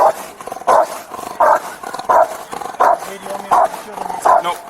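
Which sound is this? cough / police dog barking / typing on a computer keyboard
police dog barking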